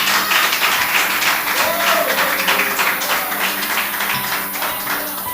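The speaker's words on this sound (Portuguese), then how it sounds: "Palmas que exaltam o nome do Senhor." Church congregation clapping their hands together in praise, a dense sustained wash of applause filling the hall with faint voices mixed underneath.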